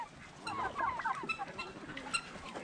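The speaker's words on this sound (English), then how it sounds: "Get out of that water, chicken." Chickens cluck and murmur close by near water, a few soft, uneven calls overlapping in a short burst with no talking.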